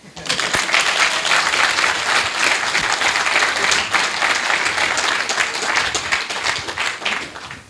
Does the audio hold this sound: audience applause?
yes